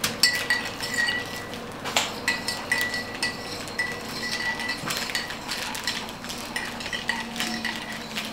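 A utensil stirs a mixture of dish soap and salt in a container, making steady clinking and scraping against the sides with irregular taps throughout, close and moderately quiet.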